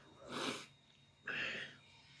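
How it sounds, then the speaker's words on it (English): A woman sneezes twice, a broad breathy burst about a second apart, with no talking, like a stifled sneeze caught mid-conversation. "Felt like a sneeze."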